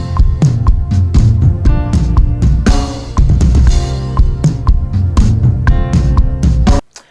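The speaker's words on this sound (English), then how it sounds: "we're going to break down the tom worship groove" A busy worship drum groove built on rolling tom hits with crashing cymbals, loud and full, played continuously before stopping suddenly.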